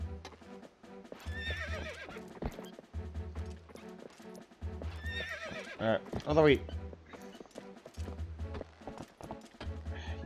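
In The Legend of Zelda: Twilight Princess, a horse whinnies loudly and repeatedly while hooves clip-clop in bursts, with someone talking in between and over the sounds.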